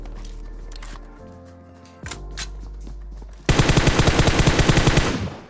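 Rapid automatic gunfire from a battle-royale shooter game, a loud sustained burst of evenly spaced shots in the final two seconds, preceded by quieter game ambience and clicks.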